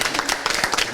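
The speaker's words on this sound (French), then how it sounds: "on peut l'applaudir parce que" A small audience in a catering school applauds, with quick irregular hand claps at close range, and speech is mixed in.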